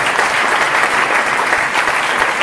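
A crowd at an Italian political meeting of the Popolo della Famiglia breaks into dense, loud applause, a continuous roar of many hands clapping with no voices on top.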